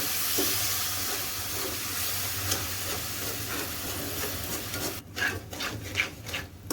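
Rice pudding mixture of sugar and milk stirred in a pan over medium-low flame, a continuous close scraping and rubbing with faint sizzle, quieter intermittent scrapes toward the end, no talking.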